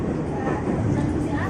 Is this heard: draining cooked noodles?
no